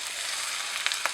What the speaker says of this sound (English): I'm going to dump the potatoes in here.